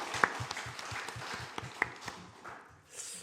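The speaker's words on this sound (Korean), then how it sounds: "우리가 성찬을 허락하신 주님께 감사와 영광의 박수 올려드리겠습니다." A congregation in a church Sunday service applauding after communion, a light, loose patter of claps with a few louder single hits, fairly quiet and fading out toward the end.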